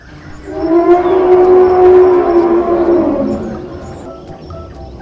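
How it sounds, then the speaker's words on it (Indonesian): A Brachiosaurus calls in the Jurassic World Evolution video game with a single loud, drawn-out tonal bellow that swells, holds for a few seconds and then fades, heard alone. "Ada seekor Brachiosaurus."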